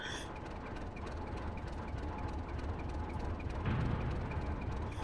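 A steam locomotive in Century of Steam backs into its train and couples on, with a continuous low mechanical rumble and a heavier clunk near the end as the knuckles engage.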